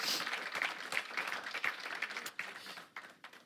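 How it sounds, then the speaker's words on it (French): A church congregation applauds, a fairly thin crowd clapping with audible individual hand claps in an irregular, close-miked rhythm that thins out toward the end. "on peut applaudir Dieu"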